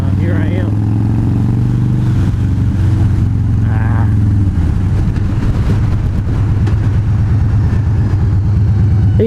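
A motorcycle riding along a road, its steady engine drone continuous and close throughout, with someone talking over it.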